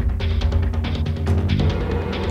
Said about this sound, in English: And here they are playing together.